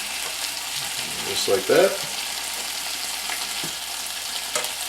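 Salmon fillets sizzle and fry steadily in a hot pan after being flipped, a constant crackling hiss with a louder burst of spatter during the turn and a brief spoken comment.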